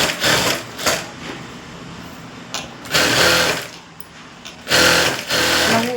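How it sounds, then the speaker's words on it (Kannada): A sewing machine stitches a blouse lining onto cloth in loud, close bursts of rapid mechanical whirring, starting and stopping several times with short pauses between runs. "ನಾವು ಒಂದೇ ಸಲಿನೇ ಸ್ಟಿಚಿಂಗ್ ಹಾಕೊಂಡು ಲೈನಿಂಗ್ ಈ ಥರ ಅಟ್ಯಾಚ್ ಮಾಡ್ಕೊಬಿಟ್ರೆ"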